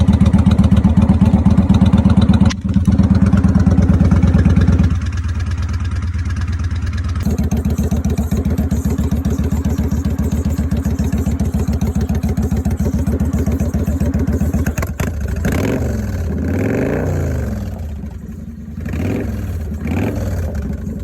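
A wrecked Kawasaki motorcycle, jump-started with cables and with the clutch pulled in, fires up and runs. It is close and loud, with an uneven idle and a few throttle blips rising and falling before it sputters.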